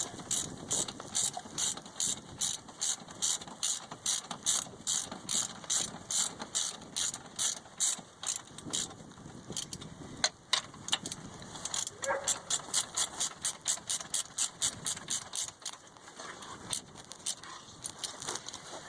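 A hand ratchet tightens the bolts on a car's brake caliper bracket, giving fast, close, metallic clicking in regular bursts with short pauses between strokes.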